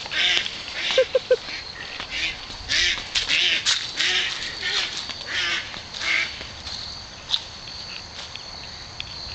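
A duck quacks in repeated short bursts while dogs chase it outdoors, the calls set against a constant chorus of insects, with a voice speaking briefly near the start.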